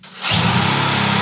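An electric drill whirs up to a steady high-pitched spin, cranking the engine of a Piaggio Super Bravo moped, loud and close with a constant buzzing drone.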